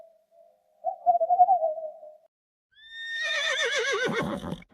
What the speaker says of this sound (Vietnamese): Con ngựa vằn.